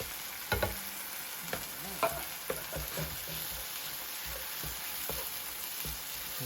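Canned stewed roasted tomatoes cooking down in a pot for a spicy Cajun catfish courtbouillon, a quiet bubbling sizzle broken by several clinks and scrapes of stirring, near and fairly soft, no voices.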